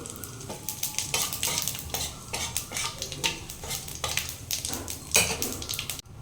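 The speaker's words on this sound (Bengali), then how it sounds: "এবার আমি এখানে এর মধ্যে গোটা গরম মশলা ফোড়নে দিয়ে নেব আর দিয়ে নেব আমি এখানে একটু জিরে" Whole garam masala and cumin seeds sizzling in hot oil for a Bengali dhokar dalna, a close crackling fry broken by repeated scraping stirs of a utensil against the pan, with no voices.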